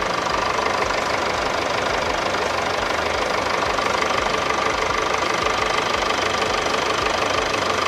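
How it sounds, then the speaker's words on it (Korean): A Mercedes-Benz GLC220 d diesel engine idles in its open engine bay, giving off a steady, close, knocking clatter that stays even throughout with no talking. "엔진 소리 일정하고 좋습니다"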